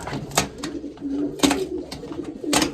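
A racing pigeon imported from the Netherlands cooing softly in repeated short low calls, close by, mixed with sharp flutters or clicks.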